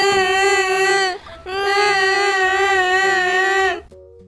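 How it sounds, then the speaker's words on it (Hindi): Two animated children wail in a loud, sustained, high-pitched cry, two long sobbing tones broken by a brief gasp, then a quieter whimper at the end. "यह सुनकर दोनों बच्चे रोते हुए वहाँ से चले गए।"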